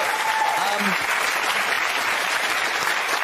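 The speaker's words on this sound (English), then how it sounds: "Give her a round of applause." Studio audience applause on a daytime talk show, a dense, steady wash of clapping that holds at an even, loud level throughout.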